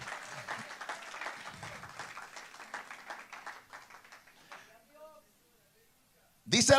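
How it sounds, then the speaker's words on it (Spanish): Church congregation clapping and cheering in a dense, continuous wash that gradually thins out and fades to near silence, followed by a loud burst of sound at the very end. "Dele un fuerte aplauso al Señor."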